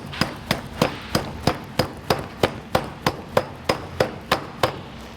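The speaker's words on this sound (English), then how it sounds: "So with my vice grips, you could use a hammer, you could use whatever's handy." Vice grips used as a hammer, repeatedly striking to press a rivet clip onto a tarp panel: about fifteen sharp, evenly spaced metallic clanks at a steady rhythm, close and loud with no talk.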